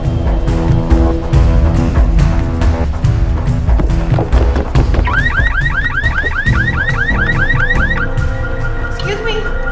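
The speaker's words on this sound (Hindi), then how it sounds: "वो गाड़ी का अलार्म बज रहा है।" A green Volkswagen's car alarm blares loudly and nearby, first as a rapid run of repeated honks and then as a fast rising-and-falling warble that continues without pause.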